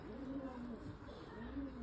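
Low, soft cooing from Giribaj pigeons, a steady murmuring coo repeating through the moment with faint background hiss and no clear talk.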